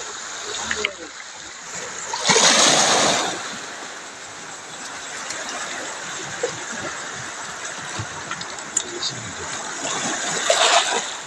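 Sea water sloshes and splashes with a constant watery wash, surging louder in a couple of bursts while people talk nearby.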